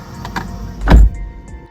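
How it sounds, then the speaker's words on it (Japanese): A Mitsubishi Outlander PHEV door opens with a few light clicks, then shuts with a single solid thump, close and clear, followed by faint ticks. "ドアを開けて閉めます。"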